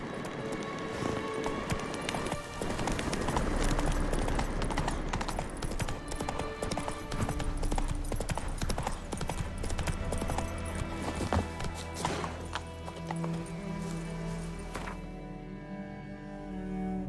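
A horse gallops in the video game The Witcher 3, a dense rapid clatter of hooves with busy background noise that thins out near the end into a softer trot.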